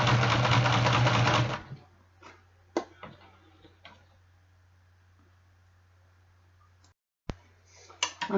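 A sewing machine runs in a fast whirring burst while stitching a zipper into a leather jacket sleeve, then stops, leaving a low hum with a few clicks and small handling knocks.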